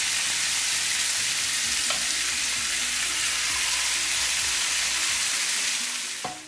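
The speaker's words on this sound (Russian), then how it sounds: "Теперь обжариваем наше мясо." Steady, dense sizzling of meat frying in a hot pan until browned, continuous and close, with occasional faint clinks.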